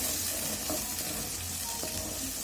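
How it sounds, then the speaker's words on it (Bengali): Rohu fish roe frying in hot oil in a pan gives a dense, continuous sizzle and crackle, loud and close, with faint stirring clinks and no voices. "এখানটা তেলেতে বাজি করে এলাম"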